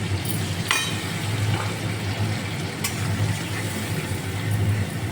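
A ground paste of black mustard, green chili and cumin frying in a pan for a bata fish dish, a dense continuous sizzle close up with a few faint clicks, and no voices.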